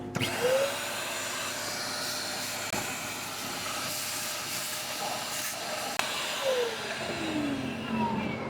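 A small Shop-Vac LC-100 wet/dry vacuum running steadily with a loud, constant airy hiss and motor whine, the pitch rising and falling briefly as the nozzle is moved.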